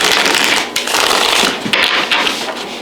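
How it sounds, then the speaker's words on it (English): Tarot cards being shuffled by hand, a steady close rustling and riffling that runs without pause and has no voices. "I will be shuffling the cards too"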